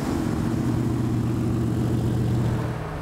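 A classic Mercury Park Lane engine idling with a deep, throaty, steady rumble, close and continuous for a few seconds, no voices over it.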